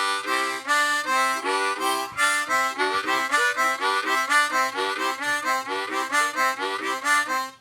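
Harmonica chugging in a steady train rhythm, alternating in and out breaths with full chordal octave tones, continuous and fairly close.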